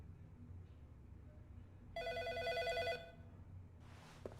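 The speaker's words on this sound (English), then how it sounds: "God, that phone is obnoxiously loud." An old-style telephone bell rings loudly in the Press X to Jason video game, a steady metallic trill lasting about a second over a low background hum, followed by a brief shuffling noise.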